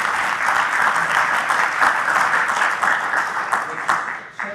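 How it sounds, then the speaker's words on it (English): Sustained audience applause at a Scottish fishing conference, dense steady clapping from a large crowd that holds loud throughout and begins to thin slightly near the end. "Could I get a round of applause again, please, for David?"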